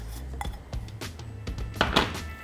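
Apple filling tipped and scraped into a pie dish for an apple crumble, with repeated close clinks and knocks of utensil against dish in an irregular rhythm, and no voices.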